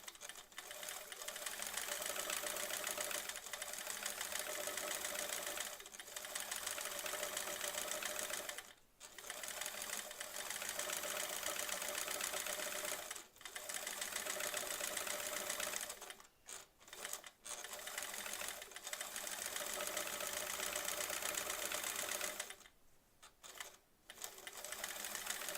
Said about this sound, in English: The machine kind of sounds like it's working harder, doesn't it?